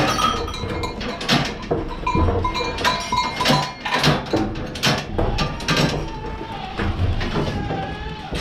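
Goats, most of them pregnant, bleat repeatedly in a barn while eating a small grain ration, their overlapping calls close and loud, with occasional clinks and knocks from the pen.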